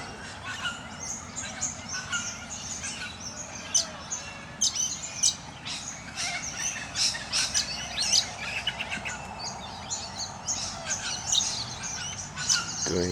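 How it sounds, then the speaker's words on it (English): Cockatoos call in trees around Perth, Western Australia, with repeated harsh squawks and chirps scattered at moderate distance over steady outdoor background noise, with no talk. "And somewhere in there are more cockatoos."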